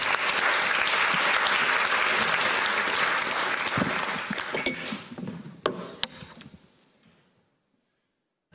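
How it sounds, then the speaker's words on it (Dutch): A hall audience at a De Balie film talk in Amsterdam gives loud, dense applause, which thins into scattered claps over the last few seconds and then fades to silence. "Een hartelijk applaus, Vonne van der Meer."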